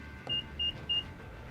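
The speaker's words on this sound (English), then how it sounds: "Power liftgate." Power liftgate of a 2022 Infiniti QX55 in motion, giving three short evenly spaced electronic beeps over a low steady hum. It is close and moderate in level.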